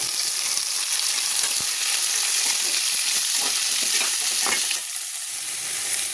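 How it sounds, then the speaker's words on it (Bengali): Boiled jackfruit and potato pieces fry with onions in oil for biryani, a dense continuous sizzle with stirring scrapes and knocks, easing slightly near the end. "এবারে সিদ্ধ করে রাখা আর এঁচোড় আলুটা দিয়ে দিচ্ছি"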